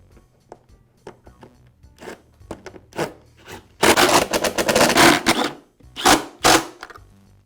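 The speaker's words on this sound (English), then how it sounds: "And I'll secure it with the screws." Screws being driven to secure a part on a Porter Cable air compressor during an air hose repair: scattered light scrapes and rubs, then a denser, louder stretch of grinding turns followed by two short bursts near the end.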